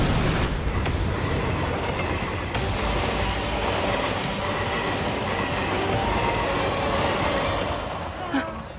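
A train running, a dense continuous rumble and clatter that stays loud throughout, with sharp impacts scattered over it and voices mixed in.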